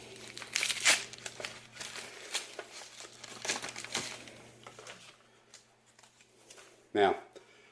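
Paper wrapping of an IDF wound dressing crinkles and tears close up, a busy rustle of handling that eases off and ends in one sharp rip.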